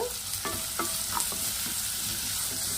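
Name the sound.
onions frying in a pan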